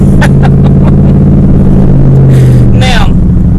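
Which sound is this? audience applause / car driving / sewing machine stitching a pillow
car driving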